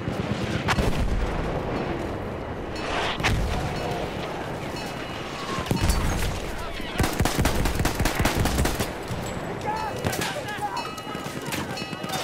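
Heavy artillery and gunfire in the World War I shooter Battlefield 1, booming blasts and crackling shots in a loud, chaotic trench battle, with in-game voices speaking over parts of it.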